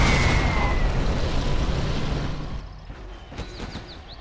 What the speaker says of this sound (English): Breaking the sound barrier.